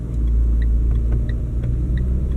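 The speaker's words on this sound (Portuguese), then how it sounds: "Você tira o pé do freio, ele trava, acelera, ó." A 2020 Renault Sandero Zen 1.6 with CVT gearbox pulls away from a standstill on a slope, heard from inside the cabin as a steady low engine rumble and drone with faint clicks.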